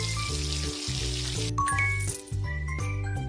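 In a kids' animal hair salon game, water hisses as it rinses an animal's hair, a brief spray sound over bouncy, looping game music.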